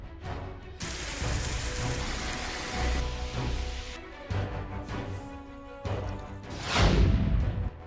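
Heavy monsoon rain in Nepal roars as a broad, loud wash of noise across several abruptly cut segments, swelling into a stronger crashing surge near the end.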